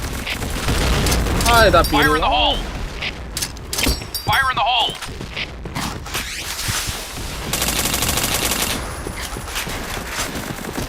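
Rapid gunfire bursts rattle through an online Point Blank shooter match, loud and dense, with overlapping automatic fire and shots while someone speaks excitedly between volleys.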